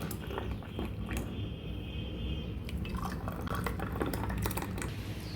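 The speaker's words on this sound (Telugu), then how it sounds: "మిక్సీ వేసుకున్న తర్వాత 2 ఐస్ క్యూబ్స్ వేసుకొని అందులోకి జ్యూస్ వేసుకోవాలి." Ice cubes and freshly blended muskmelon juice going into a glass: a steady close-up splash and trickle of pouring liquid with scattered light clinks, no voices.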